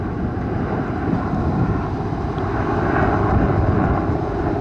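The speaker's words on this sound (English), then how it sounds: "See some of the features on that helicopter if I can get it steady." A firefighting helicopter carrying a big hose flies over a wildfire above North Bend in British Columbia's Fraser Canyon, giving a steady, fairly loud rotor and engine roar that holds evenly throughout with no voices.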